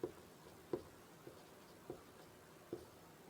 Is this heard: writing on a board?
yes